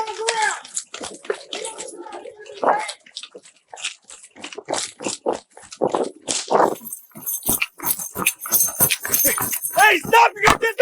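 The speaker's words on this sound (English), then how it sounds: "You're gonna get bit by a dog!" A police dog barks in sharp, repeated bursts during an arrest, close by and tangled with loud shouting voices throughout.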